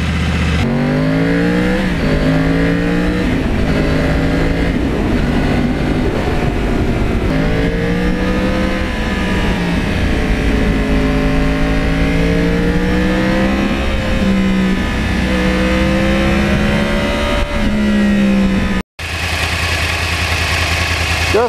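A 2009 Yamaha R1 crossplane sport motorcycle idles loudly and close, its engine pitch rising and falling through several blips and revs, with a sudden brief cut near the end before the running engine returns.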